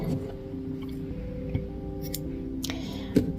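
Scissors cut black yarn with a few soft snips close by, against a low steady machine hum, with no talk.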